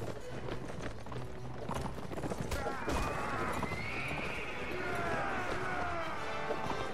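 A horse in the video game Mount & Blade: Warband, hooves clip-clopping in a fast gallop with a loud neigh partway through, amid battle noise and some talking.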